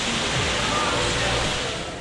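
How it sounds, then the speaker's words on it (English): Small waterfall splashing in a store fish tank at a fishing and outdoor shop, a steady broadband rush of falling water heard up close with faint store background. "Even has a waterfall up there."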